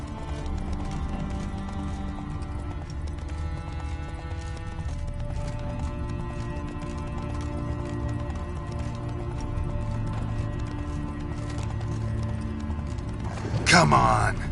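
Steady rhythmic hoofbeats of a galloping horse in The Witcher 3 video game run throughout, with a sharp burst of noise near the end.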